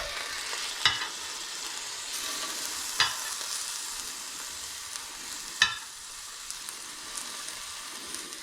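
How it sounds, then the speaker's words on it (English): Duck pieces searing in a hot skillet give a soft, steady sizzle, with three sharper clinks or taps from a utensil against the pan and a few faint ticks. "I'm just going to get my skillet nice and hot, and then I'm going to sear these a little bit"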